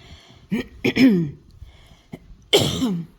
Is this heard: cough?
yes